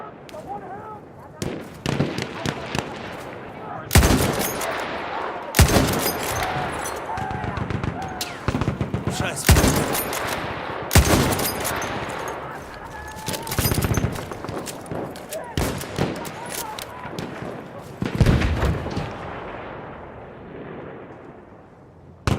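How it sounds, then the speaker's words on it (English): Battlefield 1 multiplayer combat: a field gun fires heavy booming shots at irregular intervals among cracks of rifle fire and distant battle noise, loud and close, with faint in-game voices underneath. "So there's that field gun."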